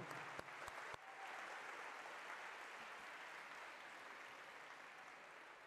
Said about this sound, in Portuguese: uma salva de palmas para Sarah